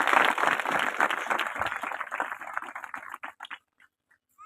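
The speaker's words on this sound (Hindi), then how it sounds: "ताली के साथ उसका अभिवादन करें।" Audience at a youth church meeting clapping to welcome a speaker, a dense burst of applause that thins into scattered claps and dies out.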